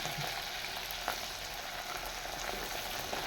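Garlic sautés in oil in a pan for a Tamil tangy tamarind curry, a steady, close sizzle with faint stirring scrapes and no talking.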